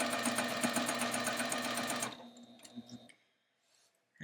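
A sewing machine quilting through a quilt sandwich of fabric and batting, running in a fast, steady stitching rhythm for about two seconds, then slowing to a few scattered clicks before stopping, with a brief knock at the end.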